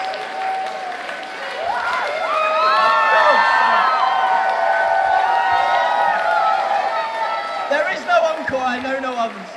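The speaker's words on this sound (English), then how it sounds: "Why are you cheering now?" A live summer concert crowd cheering, whooping and applauding loudly and continuously, with voices calling out over the sustained roar and a performer speaking among the noise.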